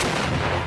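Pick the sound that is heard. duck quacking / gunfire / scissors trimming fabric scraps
gunfire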